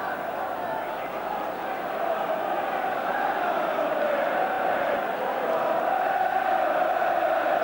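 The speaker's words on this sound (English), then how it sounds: "as you can hear from the crowd at Kenilworth Road" Football crowd at Kenilworth Road, Luton, during a League Cup semi-final against Oxford United, a steady roaring wash of many voices that swells slightly, heard continuously in the background.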